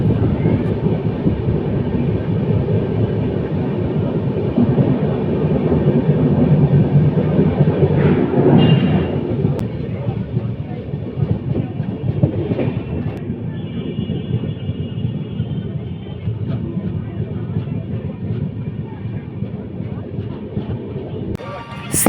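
A train rolls through Bally station on the way to Howrah, heard from on board as a loud, continuous rumble that eases slightly partway through, with people talking over it.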